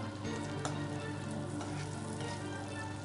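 Cranberries frying in melted butter in a pan, a steady soft sizzle with light crackling and a few faint clicks, no one speaking.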